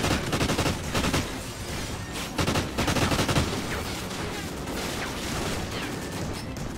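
Gunfire from the video game Call of Duty: Ghosts: dense rapid bursts of automatic shots in clusters, loud and continuous, with a lighter rattle of shooting between the heavier volleys.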